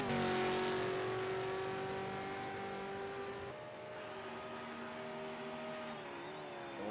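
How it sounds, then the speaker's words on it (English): A Ford Falcon FG V8 Supercar roars on track at Dubai Autodrome during a championship race, a sustained loud engine drone with shifting pitch as the car holds speed and eases off. "A lot of noise coming out of that FG."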